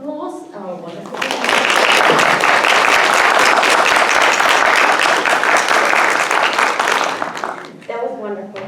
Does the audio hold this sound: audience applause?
yes